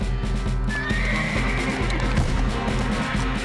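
Horse neighing: a clear, close whinny rising over rhythmic clip-clop hoofbeats and a busy animated-cartoon background.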